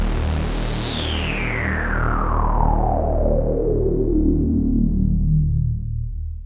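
Oberheim OB-X8 synthesizer in vintage mode, its envelopes and filter cutoff drifting per voice, gives a loud sustained tone that glides steadily downward in pitch over about six seconds, with no talking.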